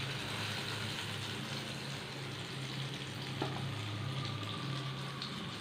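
Egg-dipped bread sizzling in a hot pan, a steady bright frying hiss throughout with a faint low hum and one small clink midway.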